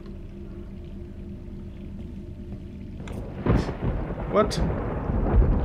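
Thunder in Resident Evil 3 rolls in after a quiet stretch of rain-like game ambience, with several heavy rumbling cracks in quick succession; a voice briefly speaks over it.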